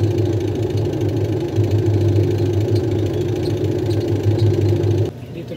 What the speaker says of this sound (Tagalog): washing machine motor.